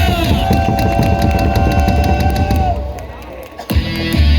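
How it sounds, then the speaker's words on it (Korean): A packed baseball stadium crowd at a Hanwha Eagles game cheers and claps loudly, a roaring mass of voices with rhythmic clapping and a sustained shout, briefly dropping before surging again. "박수와 함성을 부탁드립니다"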